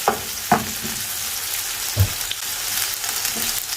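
Chicken tikka fries in oil in a pan with a dense, continuous close-up sizzle, broken by a few soft knocks of the pieces being moved around, and no one speaking.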